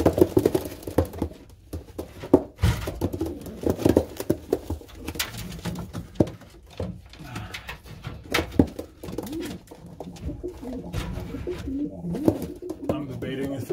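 Pigeons from breeding pairs placed together in a breeding box coo repeatedly and close by, mixed with fluttering and scuffling, while a person talks at times.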